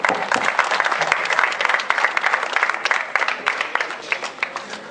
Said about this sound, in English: Let's have a huge round of applause for the final six.